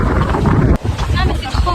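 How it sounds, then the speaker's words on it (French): Strong wind buffeting a phone microphone outdoors at a tennis tournament in Vilamoura, a loud, continuous low rumble and roar with a brief dropout partway, and faint voices underneath. "Du vent."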